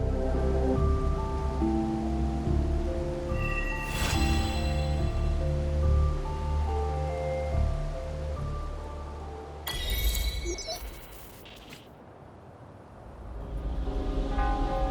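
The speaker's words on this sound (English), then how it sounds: "This rain, it's finally happening." Steady rain in the video game Wuthering Waves hisses in a continuous wash beneath sustained tonal music, with a sudden bright burst of noise near the end before the rain continues.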